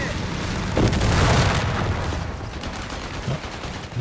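Bundle grenade detonating in Company of Heroes 3, a booming blast that rumbles for about a second amid ongoing battlefield gunfire and later thuds, with a commentator's voice running underneath.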